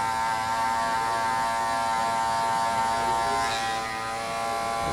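An electric hair clipper hums in a continuous steady buzz, close and even, while trimming an overgrown haircut into a high fade, with no pauses or talking.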